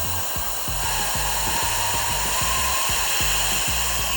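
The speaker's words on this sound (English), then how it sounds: "We're going to take our little compressor gun with a little duct tape on it" Compressed air from a small compressor gun, with duct tape around it, forced into an engine cylinder with the exhaust port sealed: a loud, steady rushing hiss runs throughout, with faint bubbling or popping beneath it.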